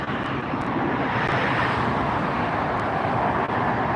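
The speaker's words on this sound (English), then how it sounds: "Taking all of the runway, using all the runway to get up in the air." A large, heavy airliner roars down the runway on takeoff at LAX, a broad, steady, distant rumble with wind noise and no voices.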